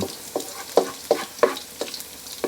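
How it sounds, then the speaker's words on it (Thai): Garlic fries in a pan with a quiet sizzle, broken by sharp, regular scrapes and clacks of stirring about every third of a second, close up and with no talk. "เจียวกระเทียมไม่อ้อม้อม"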